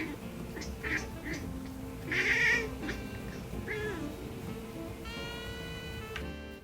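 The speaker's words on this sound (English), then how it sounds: "Did you hear my cat chattering?" A cat's chirping, chattering calls at a bird sound in a few brief bursts over low room hum, followed by a stretch of rapid stuttering clicks near the end.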